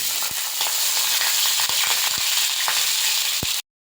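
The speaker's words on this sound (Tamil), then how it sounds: "இப்போ நம்ம வடித்த சாதத்தை நம்ம போட போகிறோம்" Cooked rice being stirred into golden fried garlic in a hot pan: a loud, constant sizzle with irregular spoon scrapes and knocks, no talk, ending abruptly.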